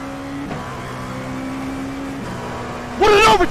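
A race car in iRacing roars steadily at high revs with a sustained engine whine that shifts pitch as another car is overtaken, then a sharp, louder rising engine sweep bursts in near the end.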